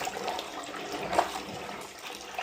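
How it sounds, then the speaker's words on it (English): Water drains steadily from a sink with the overflow blocked off, a continuous close gurgling wash with a few brief splashy peaks and no talking. "by closing your overflow you get really good suction, and that's already draining quite nicely"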